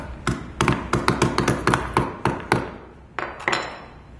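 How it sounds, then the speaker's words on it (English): A hammer strikes a rivet shut on a keychain made from a bike tire, a quick run of sharp, close taps at a steady rhythm, then a short pause and a few final blows. "You're going to want to hammer it until it doesn't have any give"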